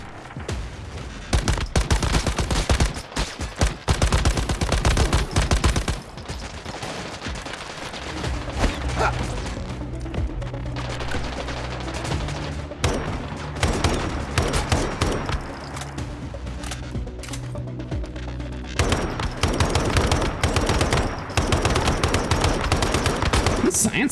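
Automatic weapons fire in the video game Once Human in heavy rattling bursts and volleys, loud and dense, broken by brief lulls, with a voice talking at times among the shots.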